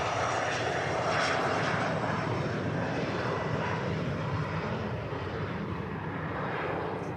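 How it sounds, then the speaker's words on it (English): Saudi Dreamliner airliner taxiing at Manchester Airport, a steady distant jet engine rumble and hiss that swells slightly then eases, with no voices over it. "And there's a Saudi Dreamliner taxiing in there."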